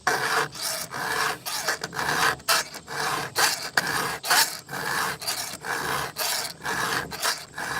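Hand-filing a saw, a steady rhythm of rasping strokes, about two per second, close and fairly loud with no talking.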